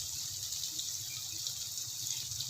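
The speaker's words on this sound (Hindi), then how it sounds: "थोड़ा सा इसमें पानी ऐड कर देते हैं।" Water poured from a tap into a pan of frying masala while cooking dahi aloo, a steady close hiss and splash running throughout with no talk.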